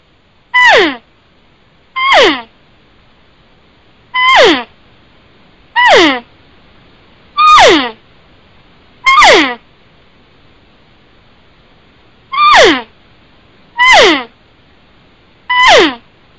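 A handheld elk call blown to imitate a cow elk's short mew: nine brief, high, nasal whistles at fairly even intervals with a longer pause partway, close and clear against quiet.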